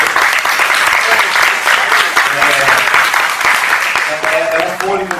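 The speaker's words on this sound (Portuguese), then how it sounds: "aí até uma salva de palmas" Loud, dense applause from a crowd at a political or union gathering, rapid overlapping claps filling the whole stretch, with some voices heard faintly beneath as it begins to thin near the end.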